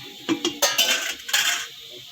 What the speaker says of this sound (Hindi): अब मैं ये सारा चिकन इसमें डालूँगी।